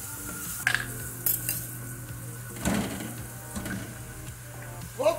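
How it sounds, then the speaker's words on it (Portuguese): Carrots are stirred in a pan for fried rice made from leftover rice, with intermittent scraping and clinking of a utensil against the pan over a faint sizzle and a steady background hum, and no speech. "Aí eu vou mexer isso daqui até que essa cenoura ela fique assim murchinha."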